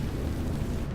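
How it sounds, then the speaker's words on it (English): A fire-breathing monster in Dragon Quest 11 lets out a single short, loud roaring whoosh of flame, with a dense low rumble filling the whole moment. "Oh, yeah, it breathes fire."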